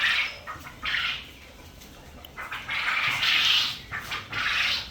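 Caged quails call in a series of sharp, repeated bursts, about five calls spaced unevenly, fairly close, with quiet gaps between them.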